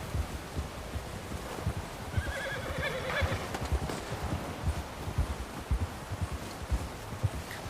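A horse moves over rough ground with a steady stream of hoof thuds and crunching steps, and a high whinny rises briefly in the middle, heard fairly close without talk.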